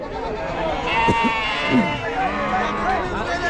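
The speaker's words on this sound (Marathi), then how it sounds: "इकडं मेंढ्यांचं मार्केट आज तुम्ही पाहू शकाल" Sheep bleating at a roadside sheep and goat market in Chakan, Maharashtra, a few wavering bleats that rise above a busy mix of crowd voices and people talking nearby.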